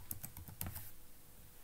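Brisk typing of code on a computer keyboard, a quick run of about eight close, crisp keystrokes in the first second, then quiet room tone with no talking.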